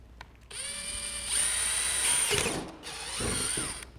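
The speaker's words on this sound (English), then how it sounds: "So this is going to be the point where we drill our 9 millimeter hole." Power drill boring a 9 mm hole into the body of a Tesla Model 3 near the wheel liner, a loud whining spin-up that holds steady, stops briefly, then bites again.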